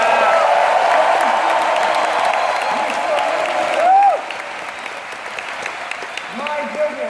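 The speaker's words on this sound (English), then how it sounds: "Can we give them a big round of applause?" Broad roomful of applause for veterans, loud and continuous at first, then thinning after a few seconds into scattered claps as voices and murmurs rise in the crowd.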